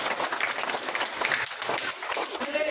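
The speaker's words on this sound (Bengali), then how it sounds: "তাহলে একটা হাততালি দাও" Students in a classroom applaud together, a brief burst of dense clapping close by that holds steady for a couple of seconds, with some voices mixed in.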